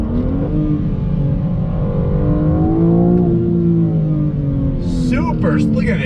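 A 2021 BMW M4 Competition accelerates hard on throttle, its engine loud and close with a rising rev that drops on a fast shift, then a whooping voice cuts in over the engine near the end.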